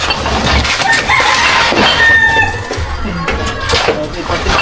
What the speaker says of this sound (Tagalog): Yung manok, Kuya Will.